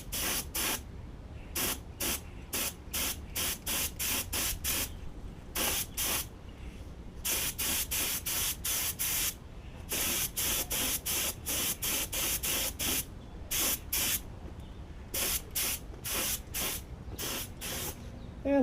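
An aerosol spray can paints REO engine parts in many short bursts of loud, broadband hiss. The bursts come in rapid back-to-back runs, with brief gaps between the clusters.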